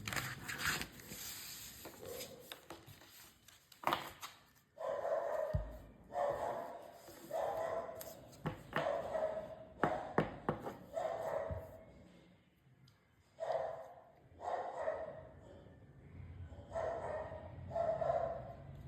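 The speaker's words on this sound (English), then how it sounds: "Sorry about the dog." A dog barks repeatedly in the background during a tarot card reading, in short bursts spread across the clip with gaps between them.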